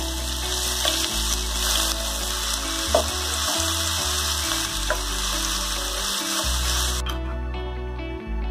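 Fennel seeds and chopped onions frying in hot oil for a spicy chicken gravy, giving a loud, steady close-up sizzle over low background music, with the hiss thinning out near the end.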